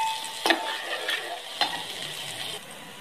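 Garlic ginger paste fries with onion in a pan, giving a steady close sizzle broken by a few scraping stirs of a utensil against the metal, with no talking.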